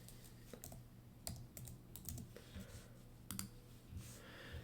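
Close computer keyboard typing: quiet, uneven clusters of key clicks with brief pauses between bursts, over a low background hum.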